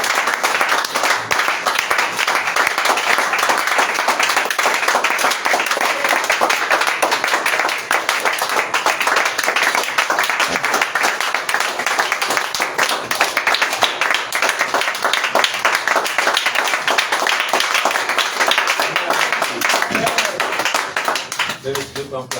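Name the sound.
congregation clapping and applauding at a church service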